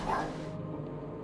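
Dog Rocky barking in a video game, a single short faint bark at the start followed by a low background hum.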